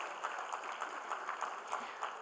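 An audience at the National Urban Conclave claps continuously to welcome guests, a steady dense patter of many hands at moderate distance with no talking.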